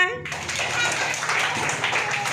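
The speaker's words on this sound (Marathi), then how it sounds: "टाळ्या वाजवा" A class of schoolchildren claps together during a counting game, a dense, continuous patter of many small hands with young voices mixed in, close and fairly loud throughout.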